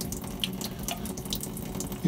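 Water drains steadily from a Mercruiser 5.7L boat engine being winterized, a continuous splashing trickle like a running tap, close and moderately quiet.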